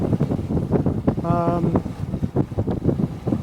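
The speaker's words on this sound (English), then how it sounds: "between 14 and 15 knots of wind" Steady wind rushing over a sailboat sailing close hauled in 14 to 15 knots, a constant broadband roar with gusty swells throughout, plus a brief tonal hum partway through.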